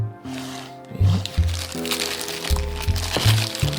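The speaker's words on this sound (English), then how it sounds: "I don't know if they usually come in a little plastic bag like that, but this one did." A thin plastic bag crinkles and crackles close up as a Pixel 7 phone is unboxed, with irregular rustling bursts and a low hum running underneath.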